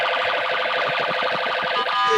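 A close, loud voice imitates an ambulance siren with a continuous wavering wail that holds steady for about two seconds, with no other sounds.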